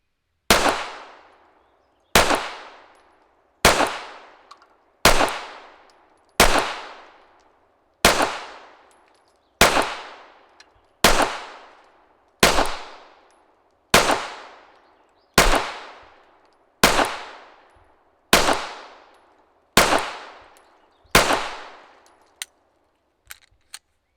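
Sixteen shots from a Hellcat Pro pistol fitted with a Strike Industries quad compensator crack out one by one at an even pace, about one every one and a half seconds. Each loud bang rings briefly, and a few light clinks of brass sound at the end.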